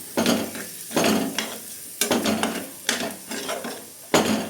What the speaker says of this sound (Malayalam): നമുക്ക് ഫ്രൈ ചെയ്ത് വെച്ചിരിക്കുന്ന ചെമ്മീൻ ചേർത്ത് കൊടുക്കാം ഇനി ഇത് നല്ലപോലെ മിക്സ് ചെയ്യാം